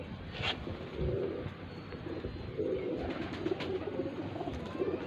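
A teddy pigeon coos close by in soft, low, repeated phrases, several throaty calls spaced across the clip over a quiet background.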